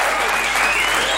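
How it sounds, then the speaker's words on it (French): A studio audience at a French television show applauds in a dense, continuous burst of clapping, loud and even throughout. "Ça valait bien ces quelques applaudissements"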